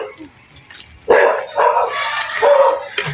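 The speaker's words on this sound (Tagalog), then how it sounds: "Aso." A dog barks several times in quick bursts, fairly close, after a brief quieter stretch.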